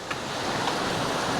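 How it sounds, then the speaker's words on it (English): A small river or stream flowing beside a quiet forest track in Minoo Park, a steady broadband rush of water heard alone and fairly close, continuous without breaks. "There's a river there, little stream or river"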